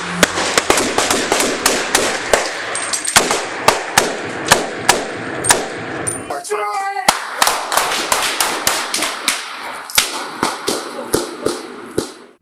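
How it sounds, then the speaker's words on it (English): Police gunfire in a shootout: a long barrage of sharp, loud shots, some in rapid clusters and others spaced apart, with a brief chirping siren-like tone in the middle and voices faintly underneath. "Police returned fire."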